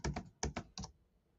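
Three quick bursts of keyboard typing, a couple of close, crisp keystrokes each, separated by short pauses, then quiet.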